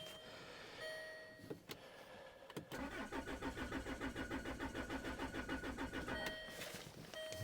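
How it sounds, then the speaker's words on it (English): A diesel car that is nearly out of fuel cranks over in a long rhythmic run of starter pulses after a few short clicks and bursts, close by and fairly loud, without catching. "Now, trying to start this car"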